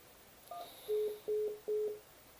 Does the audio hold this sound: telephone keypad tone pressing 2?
yes